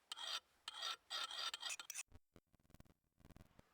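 A file sharpens the head of a Hultafors Agdor Classic axe with several close, gritty rasping strokes, followed by a few light metallic clinks and softer scraping.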